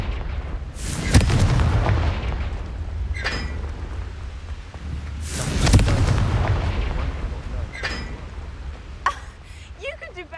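Confringo blasting spell cast in the Hogwarts Legacy video game: two loud booming blasts with long crackling tails, plus a few sharper pops, over steady game ambience.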